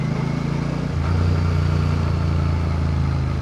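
A Royal Enfield Bear 650 twin-cylinder motorcycle engine running close by, a deep steady thumping drone with a slight rise in revs partway through, no talking over it.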